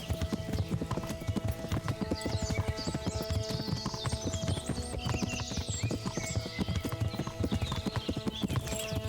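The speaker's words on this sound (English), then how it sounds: "I tried to keep up with my horse, but Yenda is too fast." Horse hooves clip-clopping in a fast, steady rhythm in Kingdom Come Deliverance, with a neigh or whinny and jingling tack over the running gait, continuous and fairly close.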